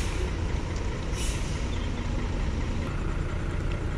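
A bus engine idles and rumbles steadily at a ferry port checkpoint at night, close and continuous, with a brief air-brake hiss near the start and no talking.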